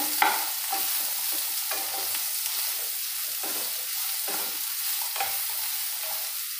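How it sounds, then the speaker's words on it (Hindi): Soya chunks fry in ghee in a pan over a medium flame, giving a steady, dense sizzle with soft stirring scrapes now and then, up close and without speech. "3-4 मिनट के लिए मीडियम गैस पे फ्राई कर लेते हैं।"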